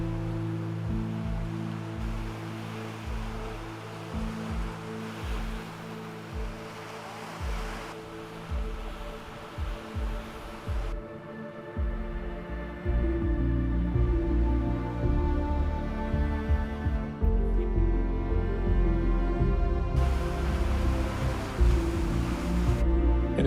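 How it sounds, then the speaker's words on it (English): Ocean waves surge and crash against the rocky cliffs of Yehliu on Taiwan's coast, a steady rolling roar that swells louder in the second half, with no voices. "especially when the waves crash against the cliffs"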